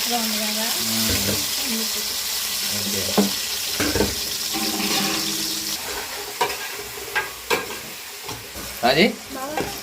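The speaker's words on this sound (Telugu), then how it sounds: "ఆయిల్ అయితే బాగా వేడింది కదా ఉల్లిపాయ పచ్చిమిర్చి టమాటాలు వేసేసుకున్నాం" Onion, green chili and tomato fry in hot oil with a continuous sizzle and sputter, while a voice talks over it and scattered clinks and scrapes of a utensil stirring the pan punctuate the sound.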